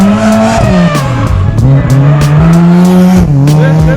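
A Mazda RX-7 drifts at a club drift day, its engine revving loudly up close as the tires squeal in a long, wavering howl.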